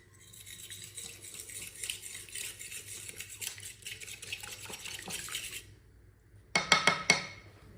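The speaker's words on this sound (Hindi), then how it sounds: "एक अंडा, अंडे को अच्छी तरह मिक्स कर लेंगे।" An egg beaten in a bowl with a utensil: rapid, continuous close clinking and scraping for several seconds, then a pause followed by a few louder taps against the rim, with no voices.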